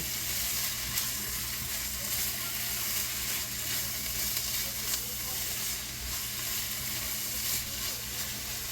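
Grated coconut roasting in a pan for coconut laddoos, a dense continuous dry sizzle with faint scraping of stirring throughout, close and steady, no talk.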